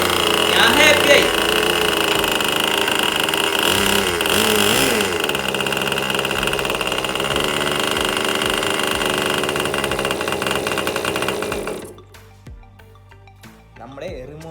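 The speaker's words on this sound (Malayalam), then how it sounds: "നമ്മുടെ എഞ്ചിൻ സ്റ്റാർട്ട് ആയിട്ടുണ്ട്" A Magnum GP 15 2.49 cc nitro model aircraft engine runs loud and close with a steady high-pitched buzz for about twelve seconds, then cuts out, leaving faint handling noises.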